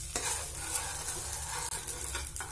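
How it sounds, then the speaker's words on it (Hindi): Rice frying in a pan toward golden brown for kheer, a steady close sizzle with stirring scrapes throughout, loud and continuous with no voices. "गोल्डन ब्राउन तक हम इसको फ्राई करेंगे।"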